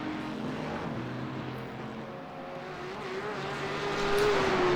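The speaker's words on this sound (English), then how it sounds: "That Aston does sound nice though." An Aston Martin race car drives in a racing video game, its engine a steady close drone with a rising tonal whine near the end as revs climb.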